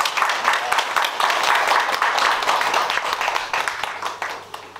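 A welcoming round of applause from a temple congregation at a Buddhist dharma talk, steady thick clapping that tapers slightly toward the end.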